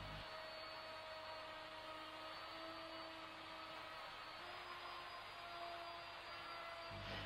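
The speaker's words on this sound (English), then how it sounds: "The cut is then made, holding the router firmly against the jig at all times." A router cutting a laminate kitchen worktop held against a jig, a loud steady high-pitched whine with a constant motor drone that starts and stops abruptly, close and without voices.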